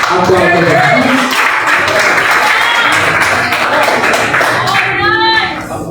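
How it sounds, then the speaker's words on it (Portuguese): A church congregation applauds during a worship service, loud sustained clapping with voices mixed in that thins out toward the end. "Aplauda Jesus"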